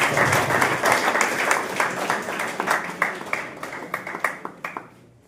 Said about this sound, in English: Give a huge round of applause, everybody.